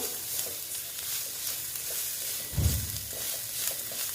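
Egg chop filling spiced with red chilli powder sizzles and fries steadily in a pan, with a brief louder scrape of stirring partway through, close and without talk.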